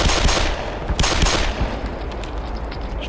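Gunfire in Black Mesa, a rapid burst of close, loud shots in the first second and a half, then scattered fainter reports trailing off over low ambient rumble.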